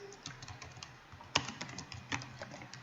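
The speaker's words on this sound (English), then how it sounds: "Let's just type Kevin Richards." Quick bursts of keystrokes on a computer keyboard, close and quiet, with one sharper louder key hit partway through and no talking.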